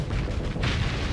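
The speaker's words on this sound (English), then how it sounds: "No, torpedo. Ow. I didn't get my shields up in time." A torpedo slams into the player's ship in Starsector, a dense, roaring boom that fills the moment and swells again partway through, loud and close with no talk over it.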